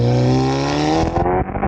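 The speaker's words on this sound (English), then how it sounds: "Now the S3's got that signature DSG exhaust note change, listen." A straight-piped Audi S3 exhaust roars loud and close, a sustained drone that shifts sharply with a DSG gear change and crackle near the end.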